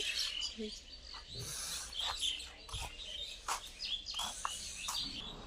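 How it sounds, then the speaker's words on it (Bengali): Many birds perched on power lines chirping and twittering in scattered bursts, fairly faint and outdoors, with some low rumbling background noise. "কারেন্টের তারে প্রচুর পাখি এখানে"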